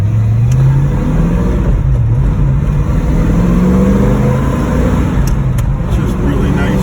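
A 1966 Ford Mustang Fastback 2+2 drives on the road, its engine giving a steady low rumble that rises and falls gently with throttle, a continuous close-up cabin drone with light road noise and no speech.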